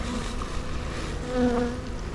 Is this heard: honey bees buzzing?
yes